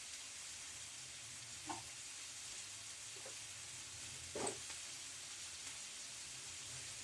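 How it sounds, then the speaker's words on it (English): Chorizo sausage and leftover chicken strips cooking in a pan, a soft continuous sizzle with a few brief scraping stirs, quiet and close with no talking. "So all we want to do is get it all in the pan, right? Let it start cooking up."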